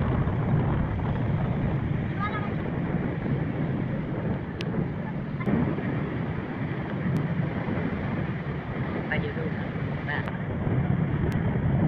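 A passenger river launch travels on a river in Bangladesh, giving a steady, loud engine and water rush with wind against the microphone throughout, plus a few faint sharp clicks.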